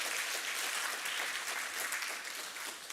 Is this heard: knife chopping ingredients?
no